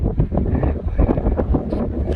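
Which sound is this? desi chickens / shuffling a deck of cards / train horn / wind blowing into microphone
wind blowing into microphone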